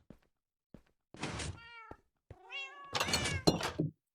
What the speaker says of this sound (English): this creeper farm will have a cat in the middle of each layer